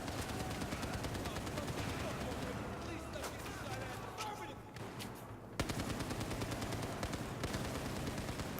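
Battlefield 4 video game gunfire crackles as dense, continuous rapid shots with repeated bursts over a constant battle din, briefly thinning in the middle before the volley resumes at full strength.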